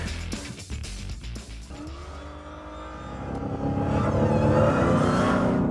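Dodge Challenger Hellcat accelerating hard in track mode, engine note climbing from a low rumble into a loud, rising roar that builds and holds near the end, with no talking.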